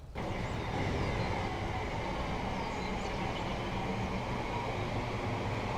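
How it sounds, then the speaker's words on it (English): Steady low rumble and rolling clatter of a video game LNER train pulling away from London King's Cross, loud and continuous after a brief quiet start, with faint squeals above. "As the back of the train departs"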